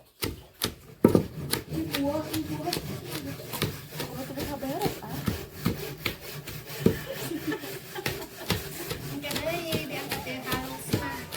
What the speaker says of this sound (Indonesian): bumbu yang tadi pakai garam, terus ditumbuk sampai halus